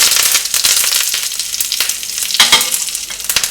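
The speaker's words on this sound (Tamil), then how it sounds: "கருவேப்பிலை இலையை போட்டுடலாம்." Loud, crackling sizzle of curry leaves frying in hot oil with asafoetida for pepper rasam, with sharp pops and spatters close by.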